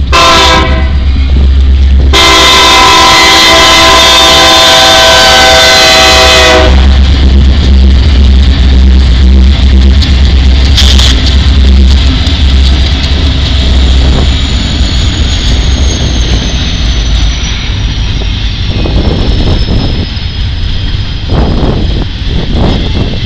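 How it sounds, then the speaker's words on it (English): A train on the OSL line, running over track freshly ground by a rail grader, passes loudly and close with a long horn blast at the start and a continuous heavy rumble of wheels and engines. "First train on the OSL after it's been graded."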